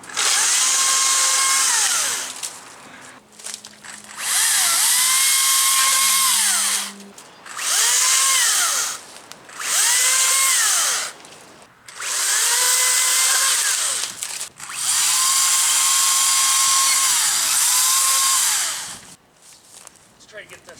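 A Makita battery-powered chainsaw cuts through wood in about six loud, close bursts of high electric whine, the pitch sagging under load with each cut and briefly dropping away between them.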